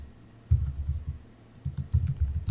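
Computer keyboard typing in quick bursts of soft clicks and key thumps, a short run, a pause, then a faster flurry of keystrokes, close up with nobody speaking.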